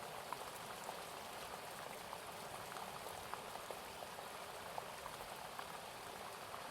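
Rain falls outside a tent as a soft, continuous, fairly faint patter and hiss, even and unbroken, with no voices.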